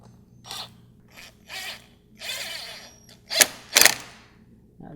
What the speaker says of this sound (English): Now tighten that clamp in place, and we are all set there.